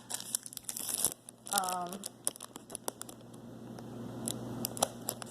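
Plastic wrapping on packs of Snoopy greeting cards from CVS is crinkled, torn and rustled up close in irregular bursts, with a brief voice partway through and quieter handling toward the end.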